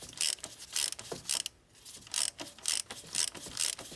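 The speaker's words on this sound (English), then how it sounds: "to remove this oil filter cap, you're gonna need a 27mm socket" A ratchet fitted with a 27mm socket clicks in short rhythmic bursts while undoing an oil filter cap on a Dodge Ram, loud and close, with a short pause partway through.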